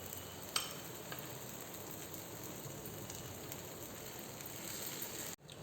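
Masala dosa frying in oil on a pan, making a steady, dense sizzling hiss with one small click near the start, then cutting off abruptly just before the end.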